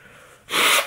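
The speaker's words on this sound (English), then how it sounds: "I gotta blow my nose." A single short, forceful nose blow from someone sick with flu bursts out after a moment of quiet, close and loud, then fades.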